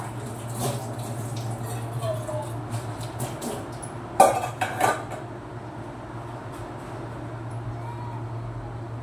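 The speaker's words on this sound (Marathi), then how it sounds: "मी एक साईडला यांना लगेच भांडे घासून घेत होते" Pots and utensils are scrubbed and washed in a home kitchen, with scattered metallic clinks and a brief clatter over a steady low hum, fairly quiet and without talk.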